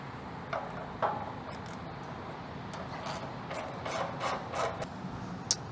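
Ratcheting and metallic rubbing from a wrench backing out the last fender bolt on a 2012-2018 Ford Focus, with several short bursts of clicks and scrapes, close and fairly quiet.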